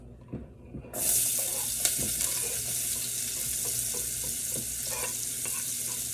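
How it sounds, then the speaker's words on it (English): Chopped onions dropped into hot bacon grease in a pan while cooking pigeon peas and rice, bursting into a loud, steady sizzle after a moment of quiet handling, with faint stirring clicks beneath. "let that saute in your bacon grease for like a minute"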